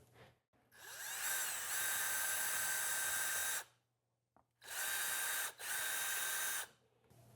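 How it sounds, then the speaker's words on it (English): A power drill cutting a taper into the hole of a motocross fork guard brace, two sustained high whining bursts of a few seconds each with a brief pause between, close and loud. "You might have to drill this a couple times."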